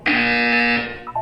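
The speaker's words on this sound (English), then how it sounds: "When you hear the buzzer, look up at the ceiling." A loud, steady electronic buzzer from the video game Portal 2 sounds alone for just under a second, then fades into short tonal blips.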